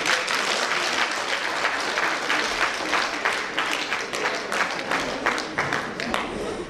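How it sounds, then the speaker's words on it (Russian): Audience applause at a Brest region police department review-contest concert: dense, steady clapping from a large crowd, loud and continuous throughout with no voices over it. "Мы благодарим вас за ваши улыбки и аплодисменты."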